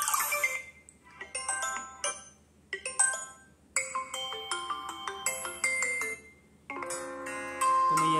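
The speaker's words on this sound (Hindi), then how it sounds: "और मेरी ये चेंज हो जाएगी फोन रिंगटोन" Ringtones play on a vivo S1 Pro phone as they are previewed one after another, bright melodic chimes and tinkling tones in short bursts with brief gaps, clear and close over a faint background hum.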